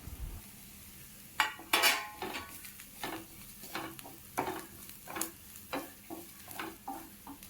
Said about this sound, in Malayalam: എല്ലാം കൂടി ചേർത്തൊന്ന് ഇളക്കി കൊടുക്കുക